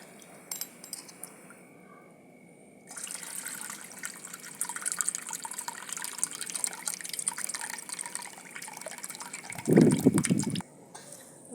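Water in a pot hisses and bubbles steadily as it comes to a boil for rice, swelling into a louder burst of rolling bubbling near the end, with small clinks early on.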